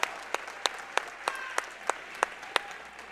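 Applause from a high school wrestling tournament crowd in a gym as an injured wrestler is taken out, a steady moderate patter with several sharper claps standing out at regular intervals.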